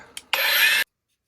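A Scotch-Brite pad on an angle grinder polishes a forged San-Mai laminated knife blade: a brief scuff, then a loud, close, steady abrasive whir for about half a second before cutting off to silence.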